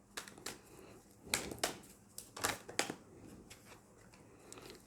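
Tarot cards are drawn and shuffled close by in a quiet room, a string of sharp papery flicks and riffles in bursts, loudest in the middle, then settling into softer rustling.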